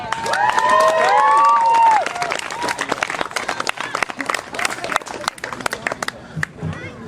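A festival audience in Kelowna, listening to a speech, erupts in loud cheering, whoops and whistles for about two seconds, then settles into lighter, scattered clapping that tapers off.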